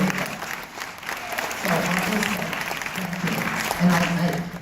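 An audience applauds after a Sundance 2018 screening in Salt Lake City, a steady dense clapping wash from a crowded room, swelling slightly midway, with a voice occasionally speaking through it.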